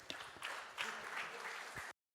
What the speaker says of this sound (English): Can I get a small applause?